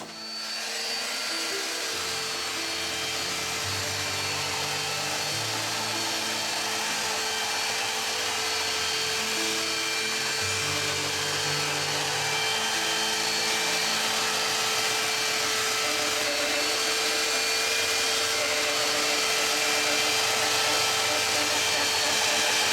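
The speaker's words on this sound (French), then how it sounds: "On va poncer pour obtenir les transparences et les perspectives." A power sander works over the wood veneer of a painting, producing a loud, continuous motor whine and grinding drone that starts abruptly and holds steady for over twenty seconds, with slight shifts in pitch.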